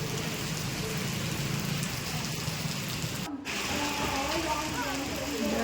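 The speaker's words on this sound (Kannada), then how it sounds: "ಸಿಕ್ಕಾಪಟ್ಟೆ ಮಳೆ ಆಗಕತ್ತೈತಿ" Heavy rain pours down hard in Mumbai, a dense continuous hiss of drops on surfaces, with one brief dropout midway.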